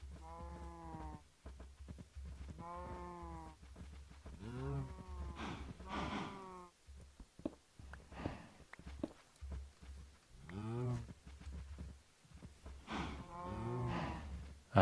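Minecraft cows moo repeatedly, with several drawn-out, overlapping game-animal lows that rise and fall over a quiet background hum.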